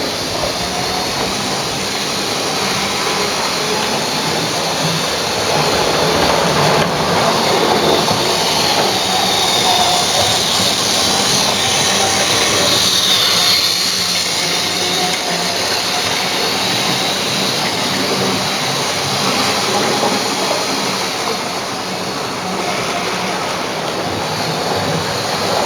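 A model railway train runs along dirty track, giving a loud, continuous rumbling and hissing roll with a faint high whine, steady throughout with no talk.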